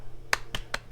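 A small child claps hands on a vegetable farm, four separate sharp claps spaced about a quarter second apart, close and crisp in a quiet setting.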